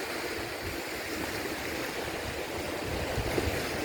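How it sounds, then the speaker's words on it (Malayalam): A small river rushing into the sea beside a container port, heard as a continuous broadband roar of flowing water with a faint low rumble, steady and moderately loud for a few seconds. "കുത്തി ഒഴുകുന്ന ഒരു ചെറിയ പുഴ, അത് ചെന്നെത്തുന്ന കടലിൽ"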